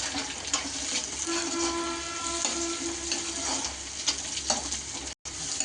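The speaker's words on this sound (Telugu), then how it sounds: "ఆనియన్స్ వేగిన తర్వాత పచ్చిమిర్చి, టమాటా వేసుకున్నాం" Onions, green chillies and tomato frying in a pan for a banana-pepper curry, a steady broadband sizzle with soft stirring scrapes, close and continuous with a brief dropout near the end.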